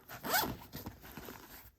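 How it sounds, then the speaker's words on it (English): A bag zipper is pulled shut in one quick rising zip, followed by a few soft handling rustles, close and fairly quiet. "So to secure it, I just zip it up and it stays."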